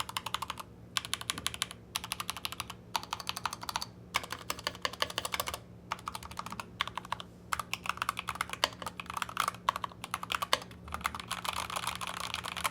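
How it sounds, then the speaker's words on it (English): Keys clack on a Yunzii AK84 mechanical keyboard fitted with Gateron yellow switches, fast bursts of close, crisp typing broken by brief pauses, with no talking. "Here is the sound test of this keyboard."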